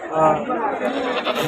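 A six-month-old goat kid bleats loudly and close by, a wavering nasal cry lasting over a second, with faint chatter in the background.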